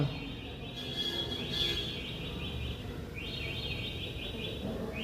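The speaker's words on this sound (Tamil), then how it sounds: "ஒரே பறவையினுடைய இது தான் ரெண்டு டைப் ஆஃப் வாய்ஸ் கொடுக்குது" A bird calls outdoors in repeated high, quick chirping phrases, two separate bursts at moderate distance over a steady background hiss, with no talking.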